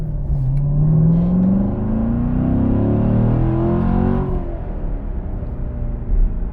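A Chevrolet Corvette C7 Grand Sport accelerates hard, its engine note climbing steadily in pitch for about four seconds before easing off, loud and close with no talk.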